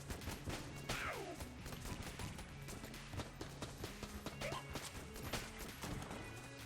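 Stone Dome weapon firing in the video game Enter the Gungeon, a dense stream of rapid shots and impacts layered over busy game music and effects, steady and loud throughout.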